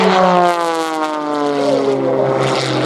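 Propeller aerobatic plane performing a roll at the Oshkosh EAA AirVenture 2021 airshow, its engine droning loud and steady with a shifting harmonic whine as it rolls upside down.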